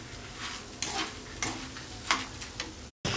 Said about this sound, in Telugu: సగం వేగాక ధనియాలు వేసుకోండి